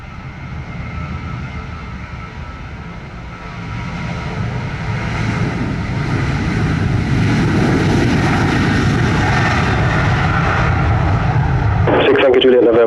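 A fixed-wing airliner's engines build at Montego Bay airport in Jamaica, a loud rising roar that swells over several seconds as it takes off, with radio chatter from air traffic control heard over it.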